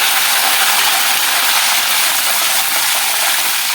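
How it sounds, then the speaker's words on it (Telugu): A loud, dense hiss of curry leaves sizzling in hot oil for a gongura pickle tempering fills the whole stretch, steady and close, with nothing else audible. "ఇప్పుడు కరివేపాకు వేసేసుకుందాము కరివేపాకు వేసినప్పుడు దూరం పడదండి దగ్గరగా ఉండొద్దు"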